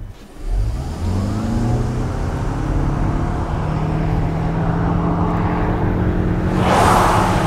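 A Lexus RX 450h+ four-cylinder engine accelerates hard, its loud drone rising steadily in pitch for several seconds before a whooshing rush of wind and road noise at the end.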